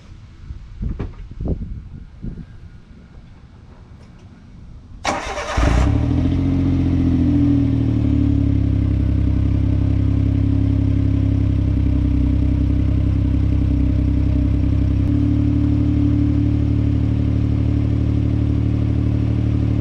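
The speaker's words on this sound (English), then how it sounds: "we can listen to what a cold start sounds like" An Autozam AZ-1 fitted with a JWorks Jewel Libre exhaust cold-starts a few feet from the tailpipe: faint clatter, a sharp crank and catch, then a loud, steady, raspy high idle that holds through the rest.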